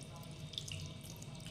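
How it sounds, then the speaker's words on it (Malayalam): Water is poured into batter for Kerala-style crispy fried chicken, a faint, steady trickling splash heard alone without talk. "നമ്മൾ കുറച്ച് വെള്ളം ചേർക്കുന്നുണ്ട്."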